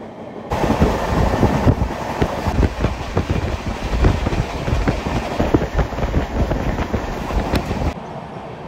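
A passenger train bound for Jhargram rolls along steadily, with a continuous loud rumble, rhythmic clickety-clack from the wheels and wind buffeting the microphone throughout.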